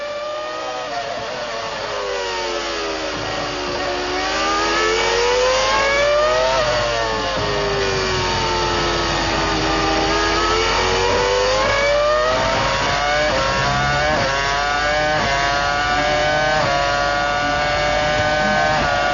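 At the 2003 British Grand Prix at Silverstone, Formula 1 cars scream past. Loud, high-pitched engine notes rise and fall with each gear change and pass-by, sustained throughout with no talking.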